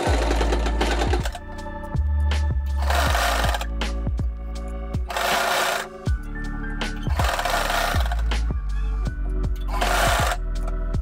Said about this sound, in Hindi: अब इसका हम एक्स्ट्रा कपड़ा जो हम लगा रहे हैं उसको स्टिच करने लगे हैं